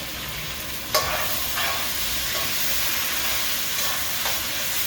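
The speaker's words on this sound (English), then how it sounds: "I'm going to leave this to fry and then I'm going to add my masala." An egg fries in hot oil with seasoning for an egg curry, giving a steady, close sizzle with occasional sharper crackles and a brief stir or clatter, with no one talking.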